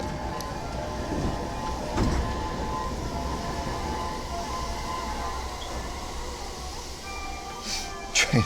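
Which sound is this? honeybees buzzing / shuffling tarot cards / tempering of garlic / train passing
train passing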